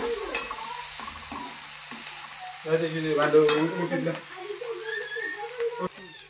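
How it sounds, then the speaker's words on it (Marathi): Chilli and onion sauté in a pan for bhindi bhaji, with a constant close sizzle and occasional stirring, while a voice murmurs briefly in the middle. "त्यात मिरची टाकू आणि छान भाजलं"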